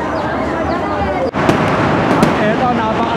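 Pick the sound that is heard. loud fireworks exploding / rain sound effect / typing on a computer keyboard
loud fireworks exploding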